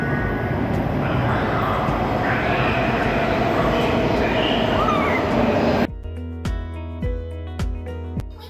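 A train pulls into a station, a broad steady rumble and rush of the approaching cars filling the first six seconds before cutting to quieter, tonal sounds.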